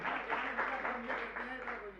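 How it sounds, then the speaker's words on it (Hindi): Audience applause welcoming someone during a Jain religious discourse, a steady wash of clapping at moderate level that runs the full two seconds with a voice mixed in. "एक बार जोरदार ताली बजा के स्वागत करें"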